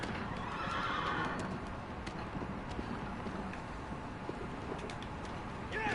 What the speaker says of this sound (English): Just kicked the shit out of my horse for going the wrong way.